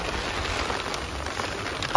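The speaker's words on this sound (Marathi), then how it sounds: "नेमका पाऊस चालू झाला, हे बघा ढग," Rain falls steadily at a campsite, a dense close hiss of drops with a faint crackle and one small sharp tap near the end.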